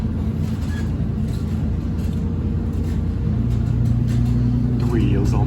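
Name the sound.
bus driving past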